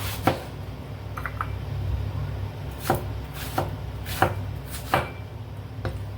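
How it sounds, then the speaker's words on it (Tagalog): A knife slices through a tomato on a cutting board, landing as a series of separate, crisp taps at uneven intervals, about six strokes, over a steady low background hum. "Ito lang paghiwa ko ng tomato."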